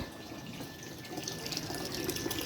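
Water running and splashing steadily onto parched, dried-out soil around wilting garden plants, a continuous close trickle and patter with no talk.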